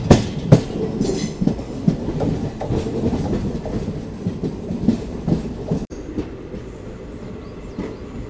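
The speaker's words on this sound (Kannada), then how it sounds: "ಚಾಮರಾಜನಗರ ತಿರುಪತಿ ಎಕ್ಸ್ಪ್ರೆಸ್ ಬಂದೈತೆ ರೀ ಪಾಂಡವಪುರಕ್ಕೆ" The Chamarajnagar–Tirupati Express pulls into Pandavapura railway station, its wheels clattering loud and close in an irregular clickety-clack with thumps over the rail joints. The noise eases into quieter rolling with a brief high squeal near the end.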